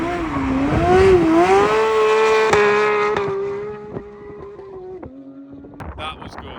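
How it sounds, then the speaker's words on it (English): A Porsche GT3 drifts nearby with a loud, wavering engine note that climbs and falls, sharp transient bursts breaking through, then the revs drop away toward the end. "So we've got Mick in the GT3 drifting around."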